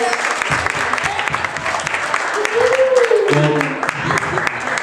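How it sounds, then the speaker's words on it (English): An audience at a live talent show applauds an act, with dense continuous clapping mixed with cheers and a few shouting voices, loud and sustained throughout. "let's give them a round of applause"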